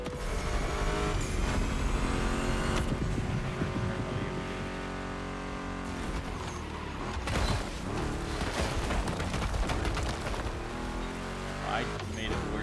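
Loud car engines in the video game The Crew Motorfest drone and rev continuously, with gear shifts and rising pitches, dense and close throughout, with faint speech mixed in.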